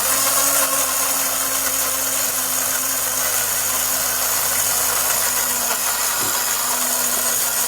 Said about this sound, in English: I'm going to be blending it in the same blender.